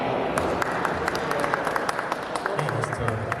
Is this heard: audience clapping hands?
yes